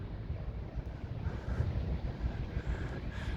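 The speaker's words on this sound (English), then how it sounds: "You can hear in the background there is a generator." A generator running in the background near a destroyed electricity substation in the damaged centre of Bucha, a steady low rumble under faint wind-like noise, distant and constant, with no one speaking.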